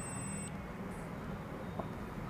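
A digital multimeter in continuity mode gives a brief, thin, high-pitched buzzer beep as its two probes touch. The beep stops after half a second, leaving a low room hum and noise.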